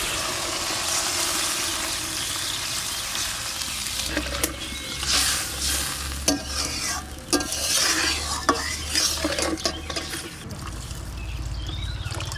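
Shrimp and morola fish curry with jackfruit sizzling in a pan, a steady fry with repeated spatula scrapes and knocks against the pan, close by, with a low rumble underneath.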